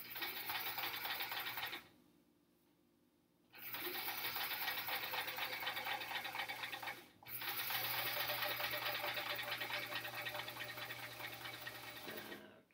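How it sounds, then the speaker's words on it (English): A sewing machine stitches hourglass quilt units in steady, fast mechanical runs, pausing twice between seams before resuming, close and alone with no talk. "let's sew on either side of these"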